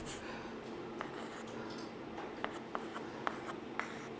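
A pen scratches across paper or a board in short, quiet strokes, a few sharp ticks standing out over a constant soft hiss, with no voice.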